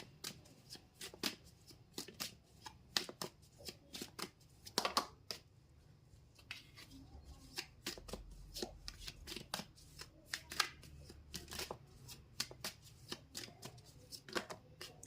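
Tarot cards are shuffled by hand in a quiet room, a long run of crisp riffling bursts and soft slaps repeating irregularly at close range without talk.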